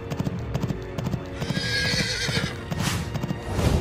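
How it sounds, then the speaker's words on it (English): A horse gallops with steady, rhythmic clip-clop hoofbeats, and a loud whinny breaks out midway, all close and clear. "Wow, horse is here."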